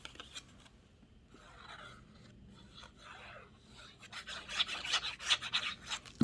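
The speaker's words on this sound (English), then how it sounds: "Lie flat and burnish it down" Paper is burnished flat onto a scrapbook folio panel, soft rubbing and scraping strokes that start faint and grow louder and quicker toward the end, close by with no talk.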